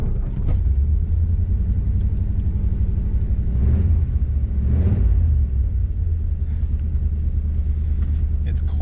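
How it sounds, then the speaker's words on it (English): A Ford flathead car idles with a newly welded exhaust and muffler, a steady deep rumbling throb held throughout, close and fairly loud, with a couple of faint swells in the drone. "New exhaust, here's what it sounds like."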